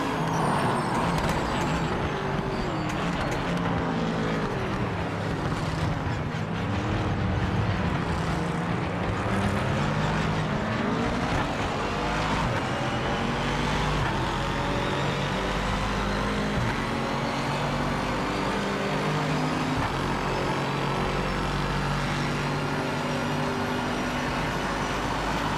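Engine of a car in a racing video game, loud and continuous, revving up and down as the throttle is worked, with rising and falling pitch sweeps and no talking over it.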